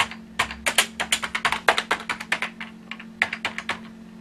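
Keys pressed on a Macintosh computer keyboard in rapid, irregular bursts of crisp clicks, close and clear, with a short pause partway through and a faint steady hum underneath.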